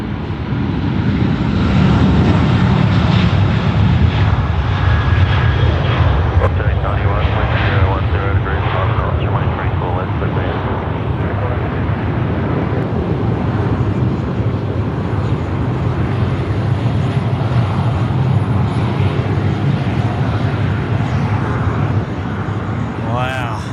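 An airliner taking off at night at Sydney Airport, a loud, sustained engine roar with broad rumbling noise that holds steady and swells, heard from nearby with voices talking underneath.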